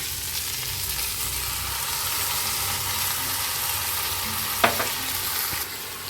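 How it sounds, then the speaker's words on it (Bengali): Cauliflower florets and poppy seeds sizzle steadily as they fry and are stirred in a pan for a cauliflower, peas and posto dish. A continuous close hiss runs throughout, with one sharp scrape of the utensil near the end. "এবার পোস্তটা ভালো করে নেড়ে চেড়ে নিই"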